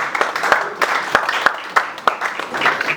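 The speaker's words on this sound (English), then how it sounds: "A round of applause for them" Scattered audience clapping for mentors at a customer reward dinner, a thin round of separate claps with a few sharper slaps, fairly close and brief, with no talk over it.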